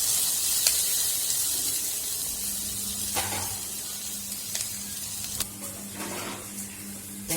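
Chopped onions fry in oil over medium heat with a steady, close sizzle, broken by a few sharp spatula scrapes and taps and a faint low hum underneath.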